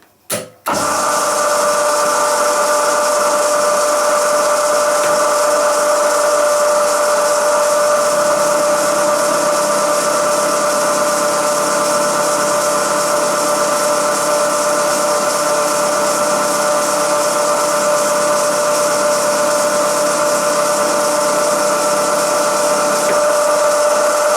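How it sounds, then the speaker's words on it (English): Milling machine running a 10 mm carbide end mill through a cut, a steady loud machining drone with a sustained high whine that starts abruptly after a brief pause and runs unbroken, with no talking. "Now I got this 10 millimeters end mill in the machine, and we'll see how it performs."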